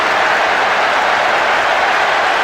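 A dense, steady roar of a stadium crowd in a PES 2006 football match after a goal, loud and continuous with no pauses.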